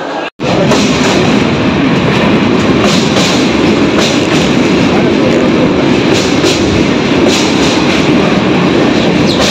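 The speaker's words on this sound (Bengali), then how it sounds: "কতটা উঁচু ব্রিজ দিয়ে দেখতে পাচ্ছ যাচ্ছে আমাদের ট্রেনটা" A train crosses a high bridge on the way to Kumardubi, a loud continuous roar of wheels and carriage rumble with faint rhythmic clacks, heard from on board after a brief cut at the start.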